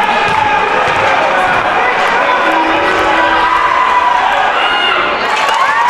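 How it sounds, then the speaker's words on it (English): A college basketball crowd from Wheaton packed behind the basket roars and shouts to distract a free throw shooter, a loud, dense, continuous wall of cheering that stays steady throughout, with a commentator talking over it. "Wheaton crowd behind the basket doing everything they can to distract him."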